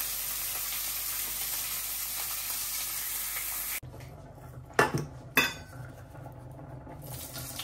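Fish frying in a pan on a home stove, a steady loud sizzle that drops away suddenly, followed by quieter bubbling and a couple of sharp clinks of utensils against the pan.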